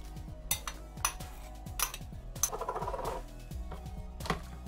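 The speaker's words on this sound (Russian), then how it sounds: "Теперь выкладываем грибы в нашу заправку," Mushrooms spooned into a homemade marinade in a bowl for pickled champignons, a series of sharp clinks and taps of a metal spoon against the dish with soft wet shuffling, close and fairly quiet.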